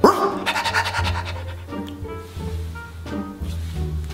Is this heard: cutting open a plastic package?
no